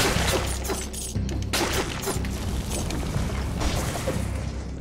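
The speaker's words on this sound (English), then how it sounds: "Flashbang." Explosion effects in a video game, including a flashbang grenade, come as a series of sharp bursts and crashes over a constant low rumble, with repeated loud hits spread across the stretch.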